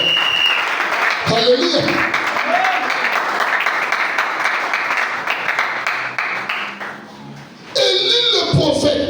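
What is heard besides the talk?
congregation applauding in church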